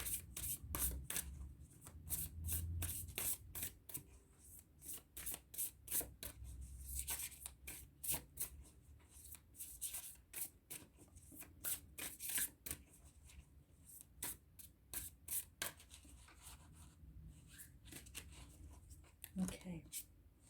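Tarot cards shuffled by hand, a long, steady stream of soft riffling and rubbing strokes close by, with a quiet voice speaking intermittently underneath.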